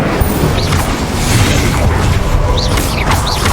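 An Incendio fire spell cast in the video game Hogwarts Legacy bursts out loudly, a crackling, crashing blaze that churns steadily for several seconds with scattered sharp flares.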